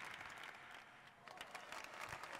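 Crowd applause from the Tennis Manager 2023 video game, a soft, even patter of many hands clapping at low volume after a won point, with no talk.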